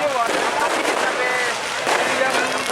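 A New Year's Eve fireworks show in Parepare, South Sulawesi, with crowds of tourists. A dense, steady wash of distant crackling and popping blends with loud crowd noise and voices and keeps going throughout.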